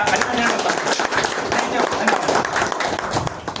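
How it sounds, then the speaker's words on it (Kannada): Audience at a college felicitation event clapping and applauding steadily throughout, a dense, even wash of hand claps filling the space with some talk mixed in. "ಎಲ್ಲರೂ ಕೂಡ ನಾವು ಒಂದ್ ಜೋರ ಚಪ್ಪಾಳೆ ಮುಖಾಂತರ"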